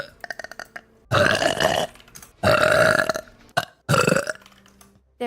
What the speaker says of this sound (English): Well, I need a burp.